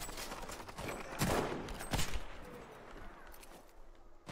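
Gunfire in the video game Battlefield 5 on PS4: a chaotic volley of sharp, fairly loud shots and bursts, densest in the middle, fading toward the end.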